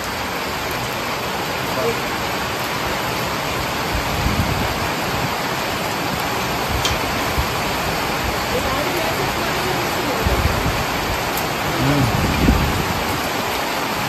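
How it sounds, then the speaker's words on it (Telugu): Heavy rain pours down over farmland in a dense, steady roar throughout, with a few low rumbles and thuds rising briefly above the downpour. "చూడండి అసలు వర్షం ఎంత మంచిగా"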